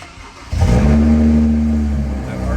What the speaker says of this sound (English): if I turn the car on